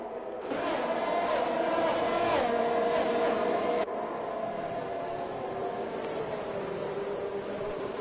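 F1 race cars in a racing video game at the Singapore circuit make a loud, continuous high engine whine that holds steady, then drops slightly in level partway through.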